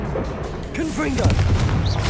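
The Confringo blasting spell cast in Hogwarts Legacy: a booming, explosive burst with whooshing, crackling magical effects, heard alongside a voice and layered game sound.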